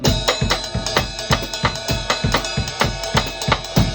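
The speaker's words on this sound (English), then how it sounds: "If a full version of the mambo sounds like this" A full drum kit plays a fast, busy mambo groove, with punchy kick and tom hits under constant bright cymbal and bell strokes, loud and close.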